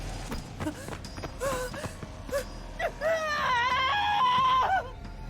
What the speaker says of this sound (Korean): 그제야 싱클레어는 정신이 되돌아온 듯 있는 힘껏 소리를 지르며 내달렸다